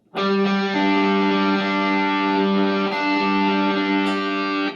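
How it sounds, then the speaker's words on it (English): A sustained, heavily distorted electric guitar chord rings out loud and gritty, holding steady for several seconds with a slight shift partway through. "we have distorted electric guitar for the first time"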